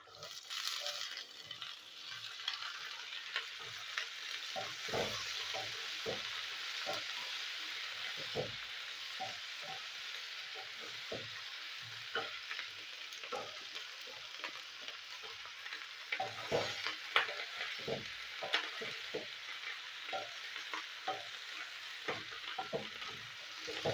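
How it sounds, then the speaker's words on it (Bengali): Potatoes and onion stalks fry in a pan, making a continuous close sizzle with frequent scraping clicks from stirring, with no talk. "আলু ভাজা হয়ে গেছে, আমি দিয়ে দেবো পেঁয়াজ কলি।"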